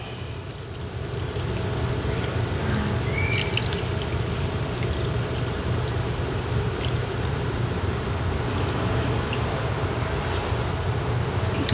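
Water pours steadily into a brine of salt and apple cider vinegar for chicken wings, making a continuous close trickling rush with a faint background hum.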